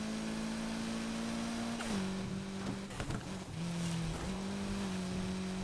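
A Mitsubishi Evo's engine drones steadily with shifting pitch, rising and dropping as it changes gear, with brief tire and impact noises midway, in the racing game Need for Speed Heat.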